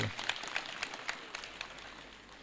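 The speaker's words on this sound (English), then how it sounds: "give him a better clap than that" An audience at a presidential address to head teachers gives a brief, fairly faint round of applause that fades out after about two seconds.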